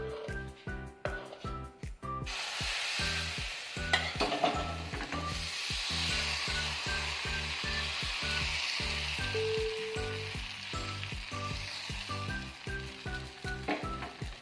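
Rice-flour batter for vellayappam ladled into a hot appam pan, a soft hiss rising under a strong repetitive mechanical hum and rattling clicks from nearby.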